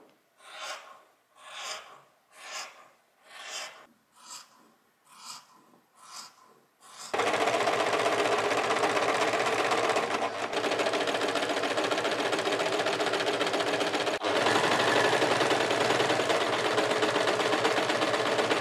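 A sewing machine stitches stretchy fabric for a skirt, first in several short separate bursts, then running in one long continuous loud stretch with no talking.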